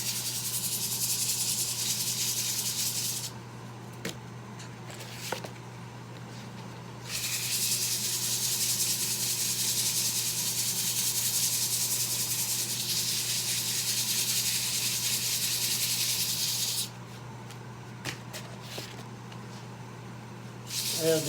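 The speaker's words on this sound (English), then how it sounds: "I have these old pieces of sandpaper, I've had them around for years." Old sandpaper is rubbed over the bottom of a piece, making a loud, close, continuous scratchy hiss in long strokes, broken by two short pauses with light knocks and a steady low hum underneath.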